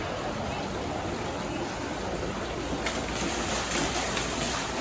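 Water from an amusement park water ride splashes down in a steady rushing wash, loud and close, with a brighter burst of spray partway through.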